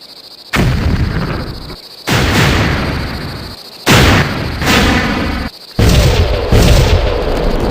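Artillery guns firing at a Martian tripod in a War of the Worlds radio drama, four loud booming blasts spaced a second or two apart, each followed by a long rumbling roar, with no voices.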